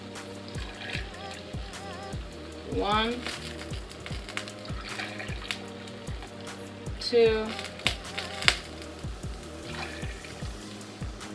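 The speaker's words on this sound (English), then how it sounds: "Now you open it back up and you put an extra set of water." Water poured into a pot of pilau rice on the stove, a liquid trickle and splash rising in two short bursts over steady cooking noise, with a person speaking briefly.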